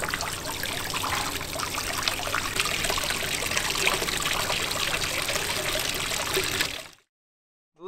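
Water from a boat's bilge pump, on a Yanmar 2GM engine setup, gushes overboard in a steady, close, continuous splashing stream that cuts off abruptly near the end.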